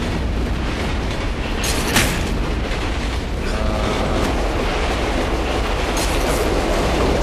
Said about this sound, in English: This is not how a train's supposed to be passing.